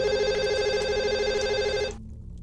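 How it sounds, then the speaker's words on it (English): A telephone rings late at night with a loud, steady electronic bell tone that sounds alone for about two seconds, then cuts off abruptly into quiet room hiss. "It was late at night when the phone rang."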